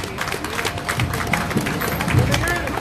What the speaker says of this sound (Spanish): pido un fuerte aplauso para esta asociación.